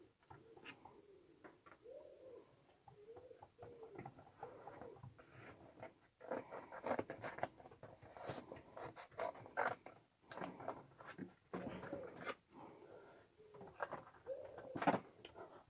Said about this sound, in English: the pigeons are back on the roof